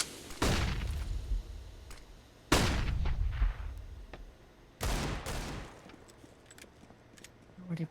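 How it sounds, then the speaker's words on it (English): Three sharp, booming bursts of pistol gunfire ring out a couple of seconds apart during a Counter-Strike match on the Vertigo map, each decaying with an echo as a caster talks over the action. "Already pistols are making themselves known here towards the ramp area"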